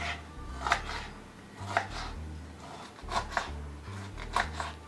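Bitter gourd being chopped with a knife on a board in a home kitchen, a steady series of close, crisp cuts in an even rhythm, about a dozen strokes with no talking.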